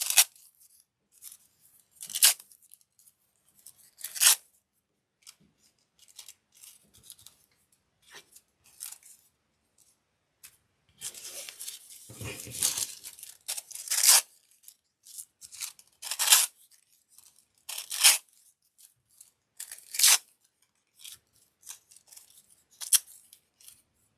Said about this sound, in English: We've got scissors.